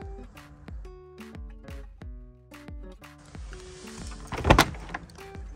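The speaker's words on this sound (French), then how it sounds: "Porte de cellule Artal." An Artal habitation door with three anchoring points on a Frankia I840 Plus F-Line heavy motorhome clicks and clunks in a series of short mechanical knocks, ending in a louder latching thunk near the close.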